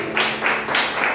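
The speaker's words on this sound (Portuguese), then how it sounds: "Dê uma salva de palmas ao Senhor." Church congregation clapping together in three quick rhythmic bursts of hand claps, close and fairly loud, with no talking over them.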